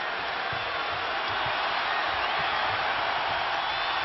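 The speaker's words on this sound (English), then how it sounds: "This crowd rising again." A basketball arena crowd in Omaha roars and cheers continuously at a college game, a broad steady wash of many voices with no pauses.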